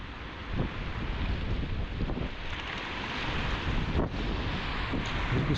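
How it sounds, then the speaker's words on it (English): Wind and sea surf on a fishing beach, with high waves washing over; a steady, loud broadband roar of wind buffeting the microphone over crashing water throughout, no talking. "And the seas come up really high here, look. You can see the waves coming over the side there."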